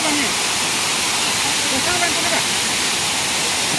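Khandadhar waterfall in Keonjhar, Odisha, running low during monsoon, a steady broad rushing roar of falling water, continuous and fairly close with no breaks.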